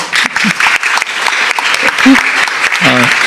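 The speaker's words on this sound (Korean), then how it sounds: "우리 박수 한번 칠까요?" Audience applause at a startup talk concert, a full crowd clapping loudly and continuously, with brief voices and a short tonal sound mixed in.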